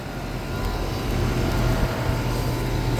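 A 2022 Concord two-ton, 15 SEER heat pump outdoor unit runs in heat mode on a freezing day, giving a steady, close, broadband whoosh and hum from the fan and compressor, with no speech.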